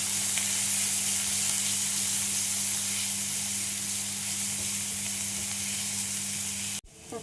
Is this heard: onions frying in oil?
yes